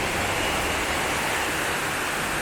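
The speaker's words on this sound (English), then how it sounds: "and it's pouring like crazy" Heavy rain pouring down in Bangkok, a loud unbroken wash of dense hiss that swamps everything else for the full few seconds.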